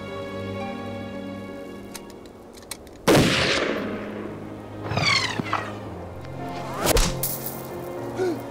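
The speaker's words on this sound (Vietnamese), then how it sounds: "Nổ súng đi." Three loud, sharp gunshots in a film scene, spaced roughly two seconds apart, each with a reverberant tail, over a quiet background of sustained low tones.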